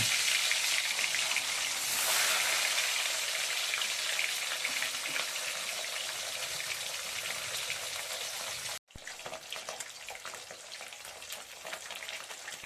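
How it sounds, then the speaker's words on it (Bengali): Bhola fish frying in hot oil sizzles in a steady, dense hiss for the whole stretch, dropping out for a moment before resuming at the same level. "এবার ভোলা মাছটা ভেজে নেব"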